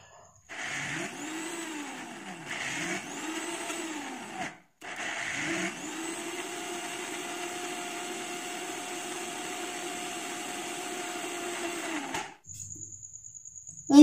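A blender grinding ingredients for homemade Nutella made with ration-shop chickpeas, running loud in short bursts with brief pauses, then a long continuous whir before cutting off.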